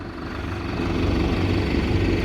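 A tractor engine runs steadily nearby while spreading saltpeter fertilizer, a loud, low, continuous rumble with a slight rise in intensity and no voices.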